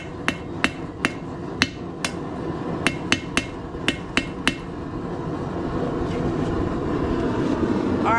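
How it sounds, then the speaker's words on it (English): A hammer strikes hot steel on an anvil while a simple drive-in hook is forged, sounding as about a dozen sharp, ringing metallic blows in an uneven rhythm that stop partway, leaving a low background hum. "when you hit it with the hammer, the anvil's hitting the other side."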